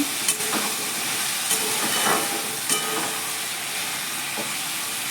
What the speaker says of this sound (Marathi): असं परतून घ्यायचं छान एक दोन मिनटं आपण परतून घेऊया असं